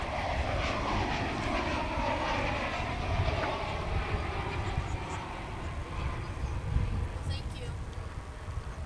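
An American Airlines jet landing at DFW International Airport rumbles and roars steadily at a distance, a broad continuous engine wash lasting several seconds with people talking over it.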